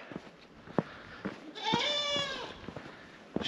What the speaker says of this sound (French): Les petites chèvres.